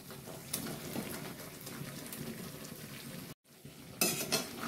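Mango pieces are mixed into a cooked spice masala in a pan, with a soft continuous sizzle and scraping stirs, a brief gap of silence, then a louder burst of frying.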